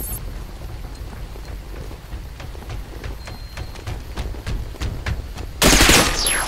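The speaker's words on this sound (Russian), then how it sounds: "Стрельба." Rapid bursts of gunfire in the game Interstellar Marines crackle in a steady run of sharp shots, ending in a loud, dense blast of noise.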